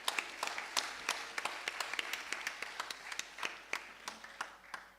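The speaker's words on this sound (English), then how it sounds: "Please give a round of applause to our violinist." An audience at a Bharatanatyam dance performance applauds a violinist, with steady, moderately distant clapping that keeps an even density for the whole stretch.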